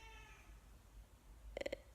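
House cats make fighting noises indoors: a faint drawn-out yowl fades early, then a quick burst of three sharp, close calls sounds near the end over quiet room hum.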